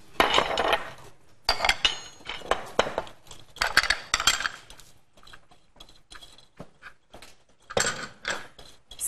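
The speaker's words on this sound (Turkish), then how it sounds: "Karıştırıyoruz." Cake batter is stirred by hand in a bowl, giving irregular clinking and scraping of a utensil against the bowl in close, uneven bursts with short quiet gaps.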